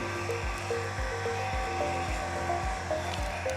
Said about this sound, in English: Grab my heat, just give this corner a shot of heat